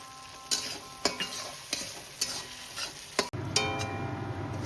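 Roasted peanuts, raisins and cashews being fried into a spice masala for a vegetarian chickpea dish: sharp spatula knocks and scrapes come at a steady pace over a low sizzle, and a louder frying hiss follows at the end.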